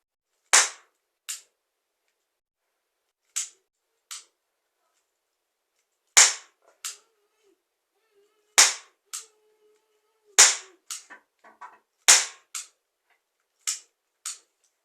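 A toy cap-gun pistol fires about a dozen sharp, close cracks, spaced irregularly with single shots and quick pairs, with nothing else audible between them.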